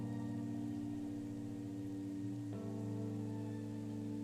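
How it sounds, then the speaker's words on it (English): Wind and rain in a metal track make a steady, faint hiss of falling rain layered over low droning tones, with the pitch shifting partway through. "The wind and the rain blows over."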